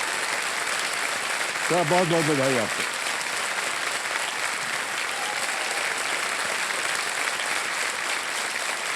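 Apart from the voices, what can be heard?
audience applause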